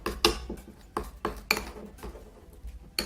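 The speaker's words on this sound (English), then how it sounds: "So half a teaspoon of honey, and then you mix it up well" A spoon clinks and scrapes against a small bowl while mixing honey into a homemade hair mask, giving a series of sharp, close metallic taps at an irregular, brisk rhythm.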